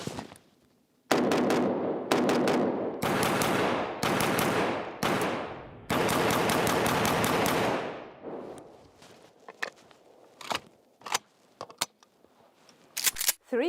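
Bursts of rapid gunfire from a rifle fitted with a ZenitCo Vzor-1 red dot sight, five loud sustained volleys in the first half followed by scattered single sharp reports and quieter clatter.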